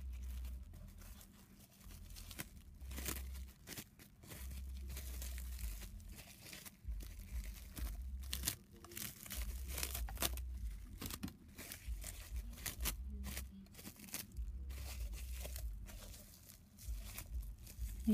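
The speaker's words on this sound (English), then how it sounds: "piece of plastic wrap." Plastic wrap crinkled and handled for a doll wig cap, giving soft, irregular crackling bursts that come and go, close and fairly quiet, with no talk.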